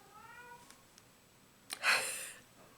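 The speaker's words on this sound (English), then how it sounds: "That's her Fred meow." A pet cat lets out a single loud, drawn-out meow near the microphone, an angry-sounding cry aimed at a toy mouse, preceded by faint softer sounds in a quiet room.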